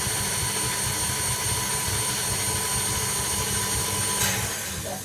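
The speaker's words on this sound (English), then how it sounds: "And what we're doing just is whisking it a little bit." An electric whisk mixes gingerbread ingredients in a test kitchen, giving a continuous close whirring motor drone with a steady pitch that fades slightly at the end.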